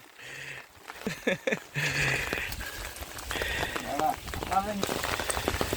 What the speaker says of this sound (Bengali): তো ঝিরি ঝিরি বৃষ্টি